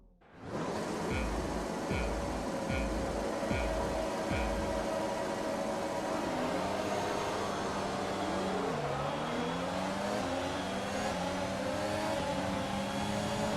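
Many Formula 1 engines roar together at the start of the Chinese Grand Prix in F1 2020. The loud, steady drone keeps going throughout, with engine pitches climbing and dipping as the cars accelerate and shift gears.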